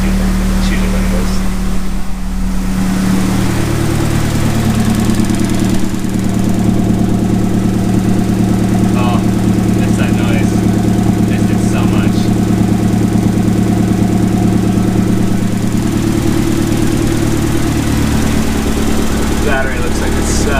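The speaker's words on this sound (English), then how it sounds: "It's idling good" A Mazdaspeed 6 engine idles steadily with a low, even rumble throughout, close by, with faint clicks and a voice murmuring quietly in the background.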